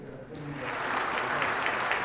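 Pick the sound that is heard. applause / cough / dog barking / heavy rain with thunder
applause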